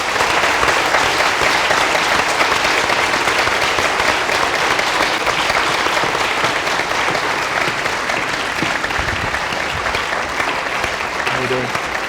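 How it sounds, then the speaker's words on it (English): Sustained applause from a large debate audience, steady clapping filling the whole stretch without a pause, loud and close. "I think we should have a round of applause for all the speakers at the end."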